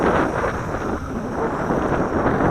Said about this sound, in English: on this windy day, on this blustery day